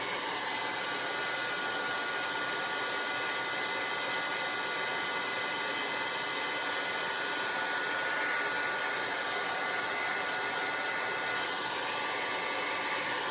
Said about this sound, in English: A hair dryer works really, really good.